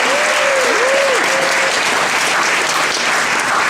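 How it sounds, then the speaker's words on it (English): An audience at a film festival screening Q&A breaks into loud, sustained applause that fills the room, with a brief voice at the start. "How about a round of applause for them?"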